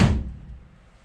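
A 1969 Plymouth Fury door swings shut with a single close, dull thunk that fades quickly into quiet, with nobody talking.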